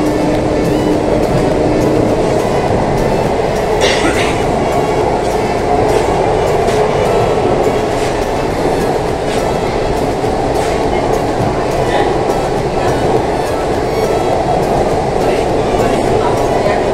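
A Kolkata underwater metro train runs through a tunnel, giving a loud, steady rumble and roar with faint rhythmic clatter and occasional squeaks, heard from inside the carriage; no clear talk.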